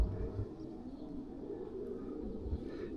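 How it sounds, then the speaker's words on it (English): Pigeons coo softly inside a big, empty old territorial prison building, their low murmuring faint and echoing against a quiet hum. "you can hear all the pigeons"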